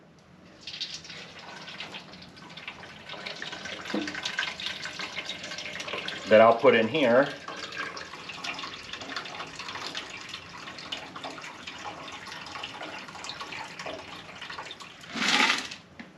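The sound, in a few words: cold water poured into a pot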